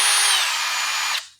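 A power drill's chuck spins in reverse to loosen, a loud steady whine that runs alone for about a second before cutting off and winding down.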